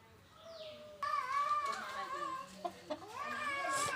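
Chickens cluck around a home yard in a few short, close, harmonic calls, with a faint higher chirp at the start and a louder burst near the end.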